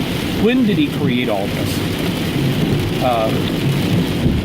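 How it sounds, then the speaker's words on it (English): Heavy rain falls outdoors in a steady, dense hiss that fills the whole stretch, with someone talking over it. "It's starting to rain, I don't know if you can hear it pretty heavily."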